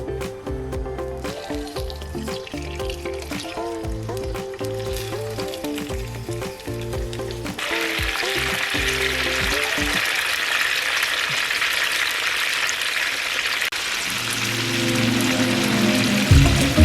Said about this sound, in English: the first thing I'm going to be doing is frying the tilapia